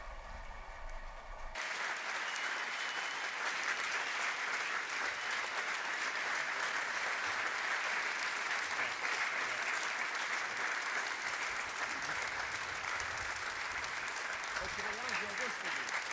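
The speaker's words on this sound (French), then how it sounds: "un applaudissement pour lui." After a brief moment of speech, a large crowd at a youth festival in Medjugorje bursts into long, sustained applause for a cardinal, loud and even, continuing to the end.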